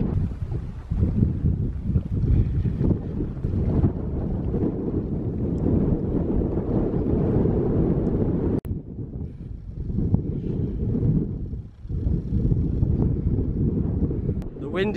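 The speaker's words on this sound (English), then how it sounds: "The wind is picking up now." Wind picks up on an open hillside during a solo coast-to-coast hike, a constant low blustery roar against the microphone with brief dips and renewed gusts.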